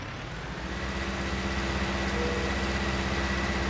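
In Farming Simulator 19, a tractor engine runs with a baler attached, producing a steady, even low drone with a faint hum on top and no talk.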